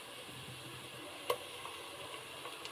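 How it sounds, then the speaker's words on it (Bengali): Onions frying in oil in a pan, with ginger paste about to go in for a white pulao, give off a quiet, steady sizzle throughout, broken once by a brief clink. "এবার দিব আদা বাটা।"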